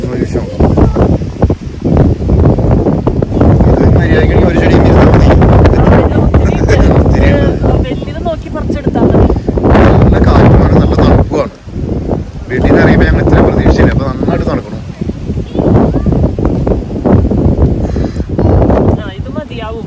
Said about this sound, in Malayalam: നല്ല കാറ്റുള്ളതുകൊണ്ടേ അധിക സമയം നിക്കാൻ പറ്റണില്ല